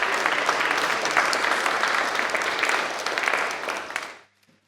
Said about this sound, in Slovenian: Velik aplavz, doktorica Saša Babič.